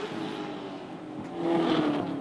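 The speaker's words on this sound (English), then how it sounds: "Sounds like it's got plenty of torque in that car too, doesn't it? As it blazes past, plenty of power." An Improved Production race car at Hidden Valley, 2020 Race 3, roars past at speed, its engine note swelling loud for a moment before fading.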